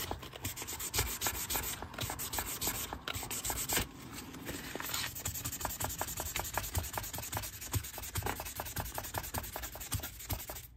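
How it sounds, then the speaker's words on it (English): Parts of a flintlock lock on a Pedersoli Northwest Trade Gun being sanded with 600 grit sandpaper, a close, continuous rasping scrub with fast rhythmic strokes and a brief change in pace partway through, with no talk. "I have some 600 grit sandpaper."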